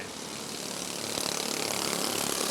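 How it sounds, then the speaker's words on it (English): Race cars of the American Super Cups series roar together at Rockford Speedway under a green flag, a loud, steady wall of engine noise from the pack with no pauses and no talk. "It's green flag, and we're racing."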